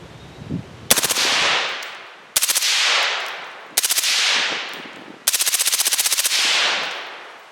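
A machine gun fitted with a SilencerCo Omega suppressor fires four loud, rapid bursts, each a fast rattling string of suppressed shots followed by a ringing echoing decay, with brief pauses between.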